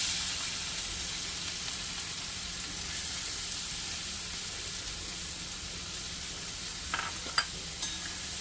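Chopped onions and asafoetida sizzle in hot oil in a kadai while chole is cooked: a steady, even frying hiss carries throughout, with a couple of brief sharper crackles and a clink near the end.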